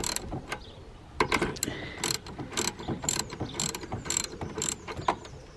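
A ratchet turns a nylock nut on the air intake of a Subaru Impreza STI, giving a close series of quick, uneven metallic clicks that speed up and slow down over a faint background hiss.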